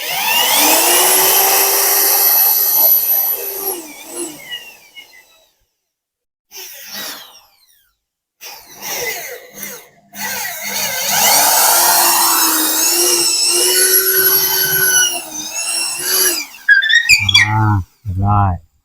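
Power tools whine in loud bursts while bolts are driven and nails hammered during house construction, with pauses between runs and people talking over and between the tool noise.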